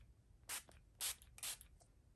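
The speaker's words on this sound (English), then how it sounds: "I am going to lightly spray" Three short hissing bursts of a makeup setting spray bottle misting onto a face, evenly spaced, close by and fairly quiet, with no talking.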